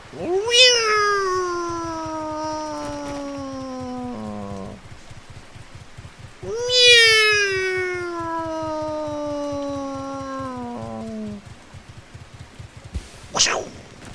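A Nekaroo creature in the game Edge of Eternity gives two long, loud, drawn-out cat-like yowls, each slowly falling in pitch, over steady rain-like patter, ending with a brief sharp sound.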